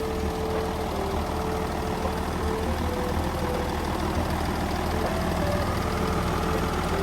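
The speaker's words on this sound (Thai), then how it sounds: "ลองฟังเสียงเครื่องเขานะครับ" The turbocharged factory diesel engine of a Komatsu WA470-5 wheel loader idles steadily nearby, a continuous low rumbling drone with faint knocking, unchanging throughout.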